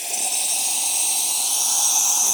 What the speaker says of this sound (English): Still really nice, strong steam, even at that lower temperature.